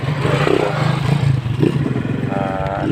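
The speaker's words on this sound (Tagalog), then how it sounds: "dyan mayroong motor na dumunaan" A motorcycle passes by on a rural provincial road, a steady close engine drone with a rough clattering edge that holds level for a few seconds.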